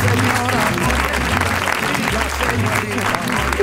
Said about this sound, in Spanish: Un aplauso al bebé.